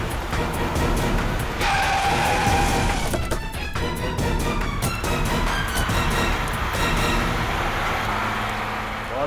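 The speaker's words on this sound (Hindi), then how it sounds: "ये नेहा तो गाड़ी भगाने लगी।" A car speeding off with tires skidding and squealing, a loud engine roar throughout and a sharp screech in the middle, close and alone without speech.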